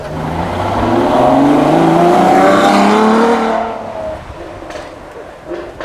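A four-wheel-drive supercar engine roars loudly at close range during a supercar weekend, its revving note rising and holding for several seconds before fading as the car moves away into quieter background noise.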